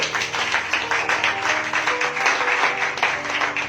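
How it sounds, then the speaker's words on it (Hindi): Sustained congregation clapping with cheering during a church sermon, steady and dense throughout, a large audience applauding over music. "कम ऑन, आपकी तालियां यीशु के लिए।"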